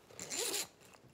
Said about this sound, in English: catching stuff in the zipper.